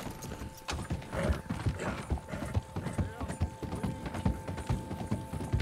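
Rhythmic horse hooves clip-clop steadily at a trotting pace in Red Dead Redemption 2, close and clear, with faint mechanical clicks underneath.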